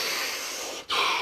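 One slow deep breath fills the space close up during a guided relaxation, a steady airy rush, a short pause, then a stronger breath.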